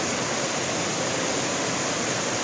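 Spring water welling up from underground and flowing at a resort in Tanay, Rizal, giving a steady, close, broadband rush with no pauses, like a small waterfall or fast stream.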